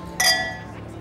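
Glasses clink once in a toast, a short bright chime that rings briefly and fades over a quiet background murmur.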